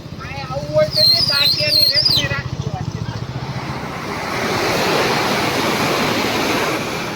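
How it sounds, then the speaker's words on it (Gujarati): A loud, continuous roar of rushing floodwater, with someone talking over it at first before the torrent carries on alone. "તમે જુઓ પૂર આવ્યું અતિશય વધી ગયું છે"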